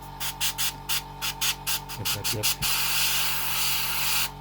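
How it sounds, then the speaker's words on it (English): A spray bottle fires a quick series of sharp, close hissing bursts onto a table, followed by a few thumps and then a longer steady spray, with a brief spoken word in between. "spray on my table"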